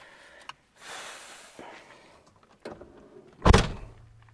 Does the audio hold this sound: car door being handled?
yes